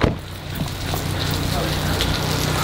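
Heavy rain pouring down in a storm, a dense steady hiss filling the whole clip at fairly loud level with low rumble beneath, continuous and without break.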